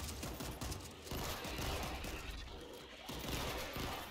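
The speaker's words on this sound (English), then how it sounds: "It's an Uzi gun." Rapid bursts of Uzi submachine gun fire in the video game World War Z, a dense crackling fusillade that continues loudly for the whole few seconds without pause.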